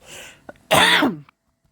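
A single harsh cough, loud and close, preceded by a soft breath.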